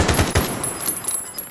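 Rapid bursts of automatic gunfire in Call of Duty Warzone, a few loud close shots at first followed by quieter, more distant firing fading over a second and a half.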